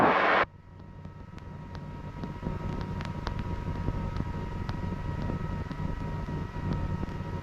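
Hughes 269A light helicopter during a normal takeoff: a brief loud burst, then a steady, droning engine and rotor hum that builds slightly and keeps a constant, faintly tonal whine throughout.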